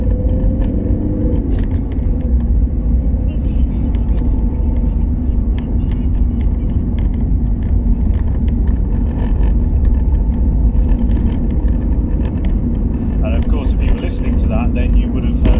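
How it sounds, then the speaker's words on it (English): Interior of an Alfa Romeo 156 JTD diesel car on the road, a loud, continuous low engine drone and rumble throughout, with someone talking over it. "driving a car back home from the doctor's surgery on an essential trip"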